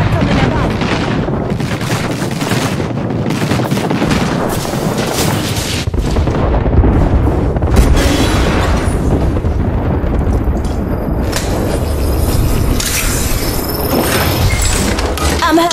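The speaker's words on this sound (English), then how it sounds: "Airstrike coming above." Airstrike explosions boom and rumble in a shooter video game, dense overlapping blasts and gunfire with game voices mixed in throughout.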